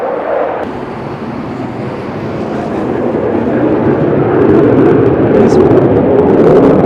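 F-22 fighter jets roar over Kadena Air Base, a broad rushing jet noise that swells steadily louder through the clip, with a voice talking faintly underneath.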